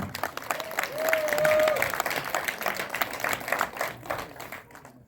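Loud, dense audience applause at a film screening event in Dubai, continuous clapping from a crowd with a brief tonal sound early on, fading out at the end.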